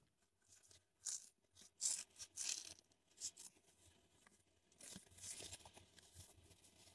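Scissors cut through a Bud Light koozie, giving a run of crisp, close snipping and tearing crunches in irregular bursts, with brief pauses between cuts and no talk.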